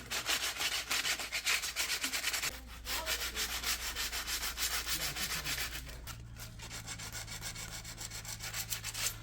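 Sandpaper rubs by hand along a wooden hiking stick in quick, steady back-and-forth strokes, close and continuous, with a brief pause partway through and no talking.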